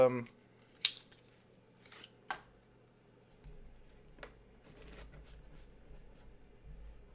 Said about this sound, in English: That was a totally false shuffle.